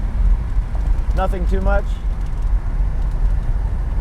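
A BMW E46 running with only a muffler and no full exhaust system gives a deep, steady low drone from inside the car, while someone talks briefly over it.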